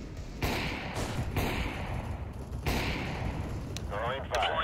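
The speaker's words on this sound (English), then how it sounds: "Deploying flashbang." Flashbang grenade deployed in the CS:GO video game: several loud, close broadband bursts and thuds amid game sounds, with a voice calling out alongside.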